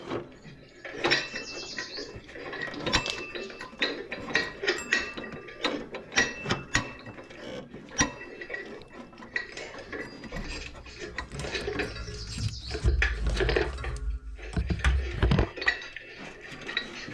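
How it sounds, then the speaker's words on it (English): Drive belt being worked by hand onto the top pulley of a Troy Bilt Pony tiller, giving irregular close metallic clanks, ratcheting clicks and knocks with bursts of heavier rattling toward the end. "See, I'm walking it to the top pulley."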